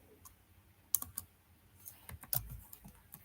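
Python code being typed on a computer keyboard: scattered key clicks and a few sharper taps in irregular bursts, close but fairly quiet, with no speech.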